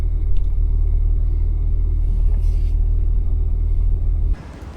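A classic BMW oldtimer car driving through busy Tbilisi traffic, heard as a steady, loud low engine rumble and drone from inside the car that drops away abruptly near the end.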